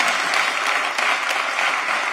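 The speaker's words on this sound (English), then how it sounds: "I want a round of applause for him." An audience at a commission meeting breaks into steady, sustained applause, a dense wash of clapping with no voices standing out.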